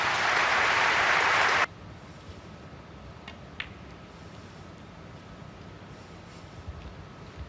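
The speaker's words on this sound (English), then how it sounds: "hear that thunderous round of applause" A loud, dense round of applause from the crowd at a Hong Kong Masters snooker quarter-final, roaring for under two seconds before cutting off to quiet hall ambience with a couple of faint clicks.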